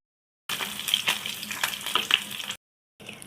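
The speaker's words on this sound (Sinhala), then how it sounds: "ඊට පස්සේ හොඳට පොල් තෙල් දාලා බැද ගන්න." Fish sizzling and spitting as it fries in hot coconut oil, a loud, dense crackle that runs steadily for about two seconds, breaks off briefly, then starts again.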